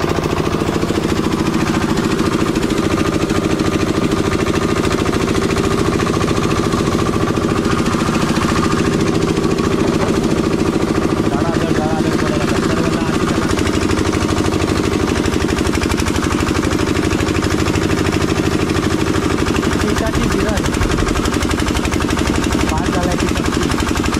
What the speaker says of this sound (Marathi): इकडे मशीन आहे बर्फाची